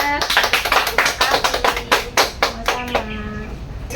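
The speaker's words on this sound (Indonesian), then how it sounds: "Beri tepuk tangan buat nomor 3." A small classroom group claps in a quick, scattered run of sharp, close claps that fade after about three seconds, with a brief voice at the end.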